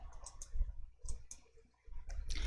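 A computer mouse clicking on a spreadsheet: a handful of sharp, close clicks in small bursts with brief pauses between them, alone and quiet.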